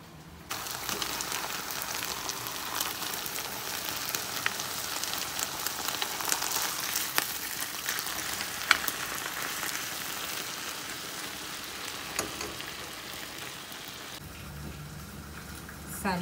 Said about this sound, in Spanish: esta carne ya viene marinada, así que solo coloqué muy poquito aceite en el sartén